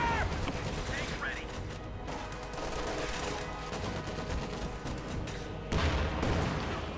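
MG-42 machine gun bursts in a Company of Heroes 2 battle, rattling under a dense mix of gunfire, explosions and battlefield noise, with a commentator talking over the action.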